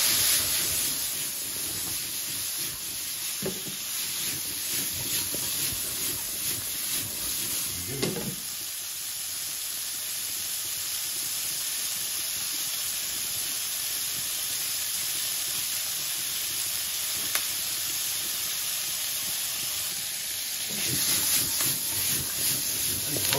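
Soy sauce hits a hot pan of smoked etag guisado, giving a strong, continuous sizzle and steamy hiss, with intermittent stirring scrapes and clatter and a brief louder flare near the end.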